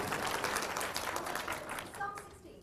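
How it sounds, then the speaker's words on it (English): A crowd applauds steadily, dense clapping from many hands, moderately distant and fading slightly toward the end. "just give these two ladies a round of applause"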